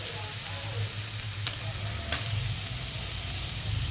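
Chicken leg pieces sizzling in a pan of cooked-down spice paste for a homemade chicken curry, a steady close frying hiss with a couple of light stirring clinks.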